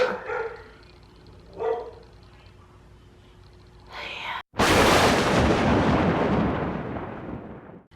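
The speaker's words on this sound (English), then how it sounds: "I wanted to talk a little bit about my dog's barking." A dog barks a few times at a distance, then a loud burst of rushing noise swells and slowly fades out.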